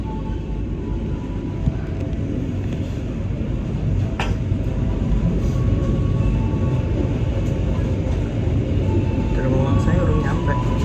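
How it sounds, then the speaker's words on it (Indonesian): Sembrani passenger train pulling out of Cepu station: a steady, loud low rumble of rolling stock and engine throughout, with brief metallic clanks and a faint horn-like tone near the end, voices murmuring underneath. "kereta api Sembrani berangkat dari stasiun Cepu"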